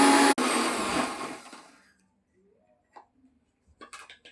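A blender grinds ginger, garlic and salt into a paste, a loud whirring roar that winds down and stops within two seconds, followed by a few faint clicks and knocks.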